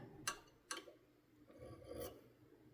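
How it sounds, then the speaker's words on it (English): A metal file rasps across a 1911 pistol thumb safety clamped in a vise: two sharp, close strokes in quick succession, then a softer, longer swipe. "I'll put my file back on it and swipe it again"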